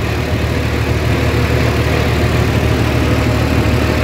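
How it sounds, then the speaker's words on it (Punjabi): Loud, steady rumble of a John Deere 5405 GearPro tractor engine labouring under a heavy load of bricks, a dense continuous drone close by with no pauses. "ਕੁਇੰਟਲ ਭਾਰ ਲੈ ਕੇ ਧੂਆਂ ਦੇਖ ਲਓ ਟਰੈਕਟਰ ਦਾ"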